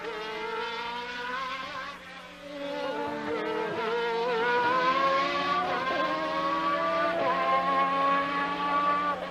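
Formula One cars at the British Grand Prix, including Ferraris, whine past with high, rising and falling engine notes that overlap continuously throughout, steady and fairly loud with no talk.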